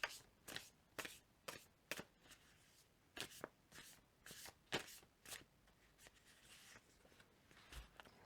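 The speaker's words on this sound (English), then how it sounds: "So I'm going to pull another card out for you, Leo, okay?" Tarot cards being shuffled and drawn, producing soft, crisp riffling and slapping bursts in an irregular rhythm, close but faint in a quiet room.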